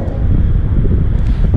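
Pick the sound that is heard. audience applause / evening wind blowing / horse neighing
evening wind blowing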